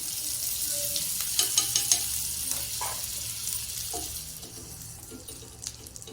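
A sandwich toasts in butter on a pan with a soft, steady hiss and light sizzle, broken by a few faint scrapes and clinks of handling, close and fairly quiet, with no talking.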